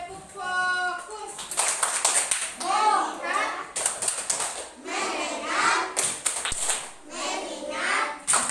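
Schoolchildren in a classroom doing a rhythmic focus-clap, bursts of patterned hand claps mixed with their chanting voices, close and lively, with a child's sung tone at the start.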